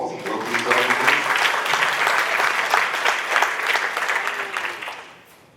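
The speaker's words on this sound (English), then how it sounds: "let's give them a round of applause and welcome themselves" A room full of staff at a university all-staff meeting applauds to welcome the speakers, a loud, dense wash of clapping that holds steady for about five seconds before tapering off.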